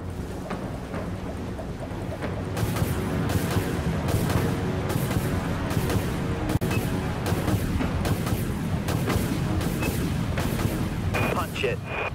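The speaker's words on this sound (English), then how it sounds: "Aye, launch torpedoes." A warship in the game Dreadnought launches torpedoes, a run of regular booming launches over a steady engine rumble, with a voice talking during it.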